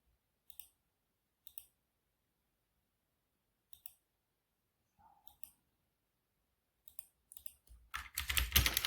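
Keystrokes on a computer keyboard while setting up a Linux system: sparse, isolated clicks in small bursts, then a dense, louder flurry of rapid typing at the end, with no talk.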